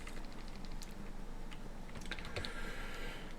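Faint keystrokes on a computer keyboard, a short run of light clicks over steady background hiss, with no voices.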